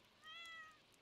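A soft cat meow in Stardew Valley, one short rising-and-falling call at low volume with nothing else over it.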